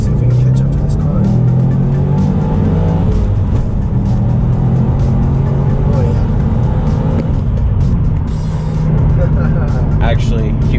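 A Subaru STI or Mitsubishi Evo 10 GSR pulls hard through the higher gears on a Mexico City highway, heard from inside the cabin as a loud continuous engine drone with road roar and people talking over it.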